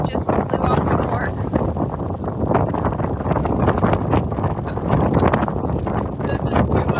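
Strong wind buffets the microphone outdoors on South Australia's Eyre Peninsula, a loud, continuous broadband roar with surging gusts throughout and no clear speech.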